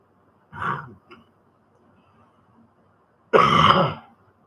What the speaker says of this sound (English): I just coughed all over my hand.